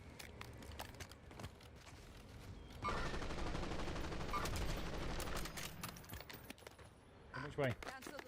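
Gunfire in a Call of Duty Warzone match near a fire station: a dense, sustained burst of shots from about three seconds in, running for several seconds, with voices talking through the clip.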